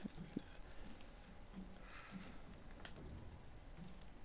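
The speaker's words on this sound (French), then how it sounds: "C'est mes bruits de pas." Player footsteps in Resident Evil Village's Castle Dimitrescu: soft, irregular knocking steps across a hard floor, fairly quiet and spaced out against a low, muffled room ambience.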